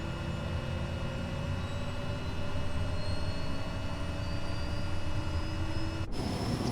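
Kodiak 100 turboprop engine starting up in a flight simulator game, a rising whine with steady tonal hum over a broad roar, building gradually and then cutting sharply near the end.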